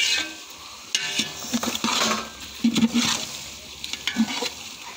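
Large pot of pulao rice for about 10 kg of Ganesh mahaprasad being stirred and sautéed, with scraping and clinking strokes at irregular intervals over a soft steady sizzle, close by.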